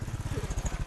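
A motorcycle engine runs close by with a fast, even train of low, throbbing pulses, like an idle or slow roll, and no voices over it.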